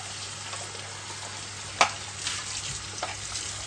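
Compartments of a Hurom H300 juicer rinsed under running water, a steady hiss of flowing water with a sharp clatter of plastic near the middle and a few lighter knocks afterward.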